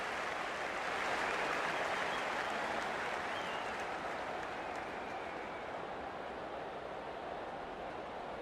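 A stadium crowd roars steadily at the kickoff of a footy match between Storm and Sharks, a dense, even wash of cheering that stays loud and distant-sounding throughout, with no clear individual voices.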